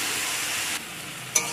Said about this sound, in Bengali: সব শাকটা দিয়ে দিলাম, দিয়ে শাক আর আলু একসাথে ভালো করে মিশিয়ে নেব।